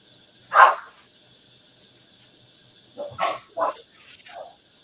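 Several dogs bark in a garden where crafting wire is being handled, one sharp bark followed a couple of seconds later by a cluster of quick barks and yips, moderately close, with no talk over them.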